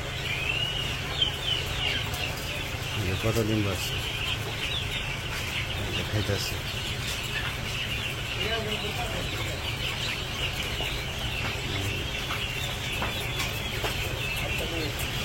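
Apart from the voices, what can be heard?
quail birds calling while eating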